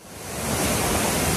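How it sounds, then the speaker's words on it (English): Dawson Falls on New Zealand's North Island roars as a steady, loud, broadband rush of falling water that swells up and holds constant, with no voices. "Waterfall."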